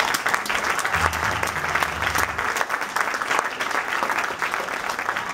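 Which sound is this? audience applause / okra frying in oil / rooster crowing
audience applause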